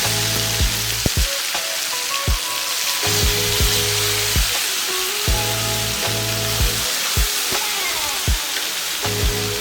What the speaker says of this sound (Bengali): এবার মশলায় মাখানো মাছগুলো একটা একটা করে দিয়ে দেবো।